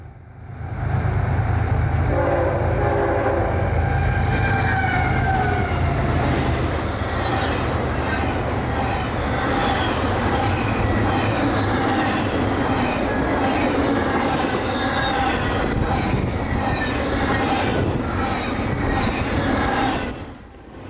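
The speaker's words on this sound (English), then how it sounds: "such as this I-137 flying south for its final destination of Jacksonville" Southbound intermodal freight train I-137 passes close and loud near Folkston, Georgia, a long continuous rumble of wheels on rail with squeals and clatter from the cars, fading slightly at the end.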